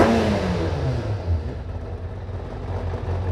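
A rebuilt Kawasaki ZZR 600 motorcycle engine revs up smoothly from idle, then settles back into a steady, loud, close running drone with no stumbling.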